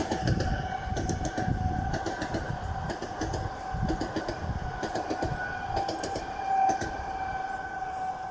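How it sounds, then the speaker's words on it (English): A train rumbles past with rhythmic clacking of wheels over rail joints, a steady high tone ringing above the rolling noise. "There's a train."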